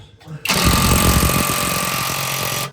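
A Hercules impact wrench hammers at a rusted exhaust bolt during a 4-inch exhaust install on a first-generation Cummins 12-valve. A loud, close, rapid rattling burst starts abruptly and runs steadily for about two seconds.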